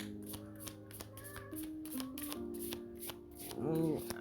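Tarot cards are shuffled in quick, repeated riffling bursts at close range, faint and crisp, with soft tonal background sounds running underneath.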